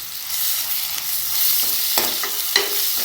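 Onions sautéing with ginger garlic paste for paneer biryani, a continuous close sizzle with a few sharp scrapes of stirring and no talk.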